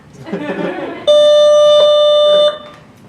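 A school bell rings in a classroom as a single loud, steady electric tone lasting over a second, following a voice speaking.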